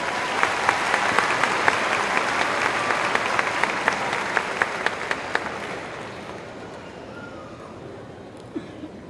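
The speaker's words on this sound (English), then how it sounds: "Please give them a round of applause." Audience at a high school graduation ceremony gives a round of applause, a broad steady clapping with a few sharper nearby claps, fading gradually toward the end.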